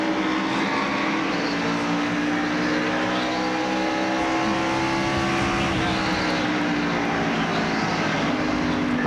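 Rodney Combs' Pontiac NASCAR race car at full speed in the 1996 Hardee's Fried Chicken Challenge 250, picked up from a roof-mounted camera: a loud, continuous engine drone with a held pitch that rises and falls slightly, and no talk.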